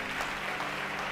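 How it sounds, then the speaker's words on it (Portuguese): A church congregation applauds during a Portuguese-language sermon, a steady wash of hand claps that stays fairly quiet and continuous throughout, with no clear voices over it. "pode aplaudir o Senhor."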